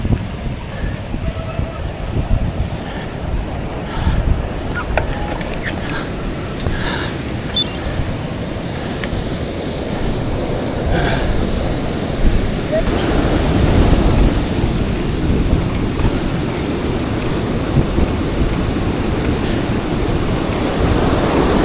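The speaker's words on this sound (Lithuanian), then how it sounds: "Dabar ilgasis segmentas bus prie jūros." Sea waves wash along a windy coast during a cycling race near Klaipėda, a continuous rushing surf and wind noise buffeting the microphone, swelling slightly louder midway.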